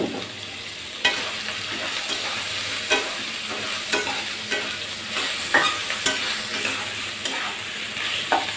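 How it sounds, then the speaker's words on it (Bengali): Onion and green chili fry in a pan with a dense, continuous sizzle, overlaid by periodic scraping and knocking as a spatula stirs, close up and steady throughout. "এখন আমি পেঁয়াজটা দিয়ে এটাকে ভেজে নেব।"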